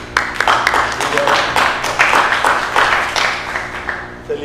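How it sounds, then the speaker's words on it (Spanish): An audience at an evening talk on television versus cinema applauds a systems-engineer speaker, a loud, fairly close run of clapping with a few individual claps standing out and some voices underneath. "un aplauso para él"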